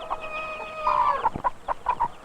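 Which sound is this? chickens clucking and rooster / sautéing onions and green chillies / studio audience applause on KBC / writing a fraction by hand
chickens clucking and rooster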